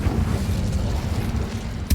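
A Hogwarts Legacy Incendio fire spell lands as a deep, rumbling burst with a roaring low-end swell that holds for about two seconds and ends in a sharp crack.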